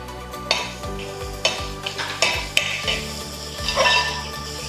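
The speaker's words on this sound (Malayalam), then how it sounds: "സബോള വഴന്ന് കഴിഞ്ഞ് ഇനിയിപ്പോൾ നമുക്ക് കൂണിട്ട് വഴറ്റാം" Mushrooms being sautéed with softened onions in a pan, with steady stirring scrapes and clinks of a utensil against the pan over a low sizzle, several sharper knocks standing out; no one talks.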